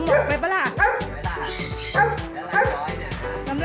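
A dog barks repeatedly in quick, yappy bursts mixed with whimpering yips, close and loud, while people talk over it.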